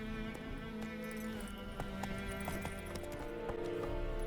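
Roach, a horse in The Witcher 3, gallops in a quick, steady clip-clop of hooves over a sustained game music bed, fairly faint and even throughout.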